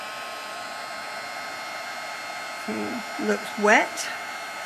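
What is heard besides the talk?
hair dryer drying paper craft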